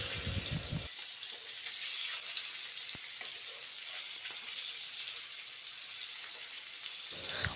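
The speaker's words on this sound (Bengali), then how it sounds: "মাছ ভাজা প্রায় হয়ে এসছে" Fish pieces frying in hot oil for a Bengali fish curry, giving a steady, loud, hissing sizzle with a brief lower crackle at the start and end.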